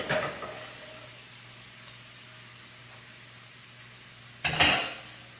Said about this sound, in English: I'm going to add the sauce into the shrimp so I have more room in my pan.